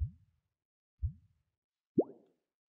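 Three short synthetic sine-wave tones shaped by a pitch envelope, about a second apart, each sweeping quickly downward in pitch with a brief soft tail; the last starts higher and brighter.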